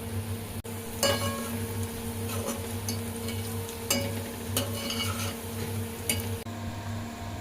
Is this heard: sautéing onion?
yes